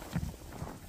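A horse walks, its hooves giving a short run of soft clip-clop thuds close to the microphone, with no voices over them.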